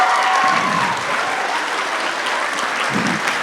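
A choir concert audience claps steadily for a singer receiving a most-improved award at a spring concert, the dense, full-room applause holding evenly for about three seconds.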